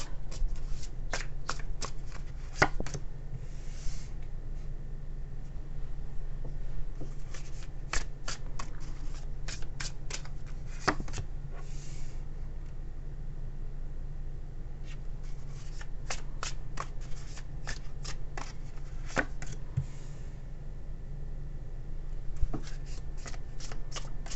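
Tarot deck being shuffled by hand at close range, repeated crisp riffling and flicking bursts in an irregular rhythm over a low steady hum, with no talking.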